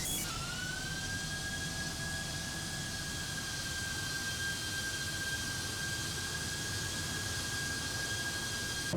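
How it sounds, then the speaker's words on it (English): British Airways Boeing 737-800 jet engines at departure from Cape Town in a flight simulator game: a steady, loud, continuous turbine roar with a thin sustained whine, unbroken throughout. "British Airways 737 departing from Cape Town"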